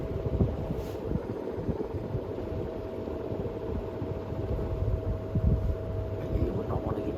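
A Mistral BSRV48 BN ceiling fan motor runs at full speed, giving a steady close whooshing hum with a faint constant tone, unbroken for several seconds and with no talk over it.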